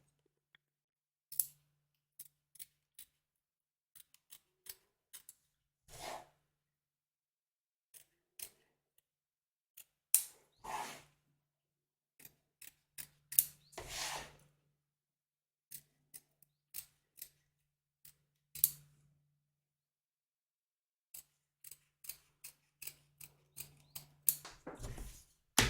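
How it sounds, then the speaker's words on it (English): Scissors trim embroidered fabric close to the stitch line, giving sparse, sharp snips in short irregular clusters, close and quiet with silence between cuts. "I'm going to trim close to the stitch line"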